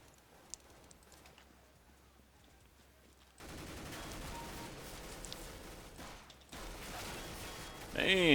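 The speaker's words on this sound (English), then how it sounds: "Let's try a different rifle here." Rapid rifle gunfire bursts from a video game, loud and steady from about three and a half seconds onward after a quiet stretch with talk, then swelling near the end.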